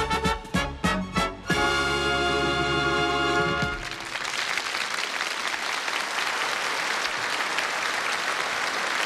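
A studio audience at a 1982 German TV variety show in Bad Wimpfen applauds loudly and steadily. The applause follows the closing chords of a live band and continues without a break.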